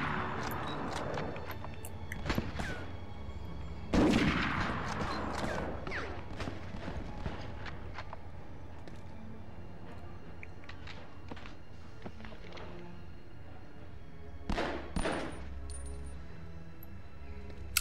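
Luger pistol shots from Medal of Honor (1999), a few separate cracks with gaps between them, one loud shot near the start and a pair near the end, plus quieter game sounds in between.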